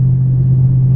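A 2019 Dodge Charger Scat Pack engine held at a steady, loud low rumble throughout, close by, with no voices over it.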